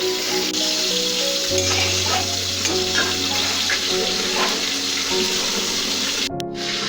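Masala of salt, turmeric and chili powder fries steadily in a pan with a little warm water for a Bengali fish and vegetable meal, a continuous close sizzle with a low hum and a brief clatter near the end.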